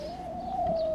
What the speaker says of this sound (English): Call the gray girl the Featherfoot bird.